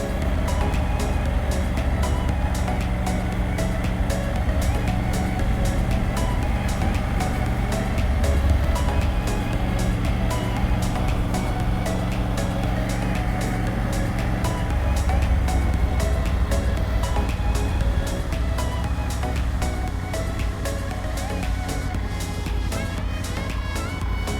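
A Triumph Tiger 850 Sport motorcycle rides down Wachusett Mountain on a warm day, its engine and rushing wind forming a steady, dense roar that holds loud and unbroken throughout, with no talking.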